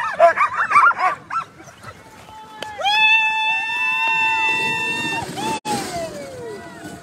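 Alaskan husky sled dogs wait at the start of a 150-mile mid-distance race in Willow, Alaska. Close yips and barks are followed by long, high, eager whining howls, with someone talking between them.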